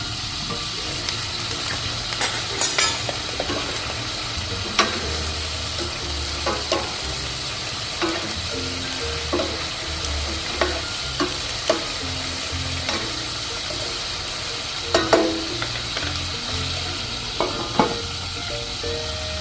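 Chicken pieces for afritada fry and brown in a pan with a steady, close sizzle and crackle, broken by frequent sharp pops and clinks of stirring throughout.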